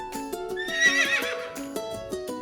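A young foal whinnies in a long, shrill, wavering neigh right up close, while regular hoof clip-clops tap along beneath it.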